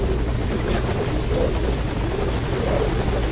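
A helicopter in Metal Gear Solid V Ground Zeroes sits at a landing zone, its steady loud rotor thrum and engine drone filling the whole stretch without a break.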